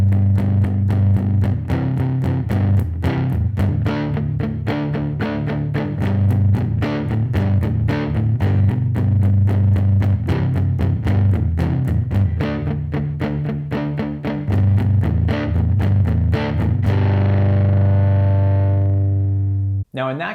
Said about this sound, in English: So palm muting would sound like this.